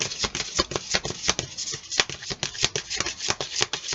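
Tarot cards being shuffled by hand, a steady run of quick riffling flicks and soft slaps, close and continuous with no talking.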